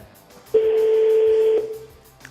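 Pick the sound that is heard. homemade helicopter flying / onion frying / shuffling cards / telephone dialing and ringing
telephone dialing and ringing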